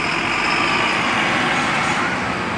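Advance Transatur intercity bus arriving at the Brasília interstate bus station from Goiânia, a steady broadband engine and road rumble with continuous hiss, loud and close throughout.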